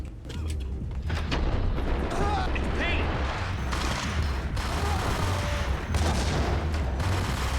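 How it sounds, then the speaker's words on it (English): Rapid automatic gunfire from the Max Payne video game, a dense continuous rattle of shots with mechanical clatter, loud and close, running throughout with bursts of brighter impacts. "Whoa, these things fire very quickly. We've just fired like 100 bullets."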